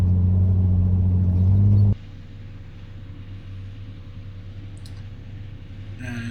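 An off-road vehicle on a border track holds a steady throttle, its engine a continuous low rumble that is loud at first, then drops to a quieter, even drone heard from a distance, with a brief rise near the end.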